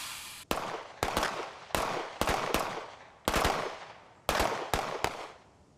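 Gunshots fired at shooting targets in quick bursts of two and three, sharp cracks with short echoing tails, moderately loud and with no talking.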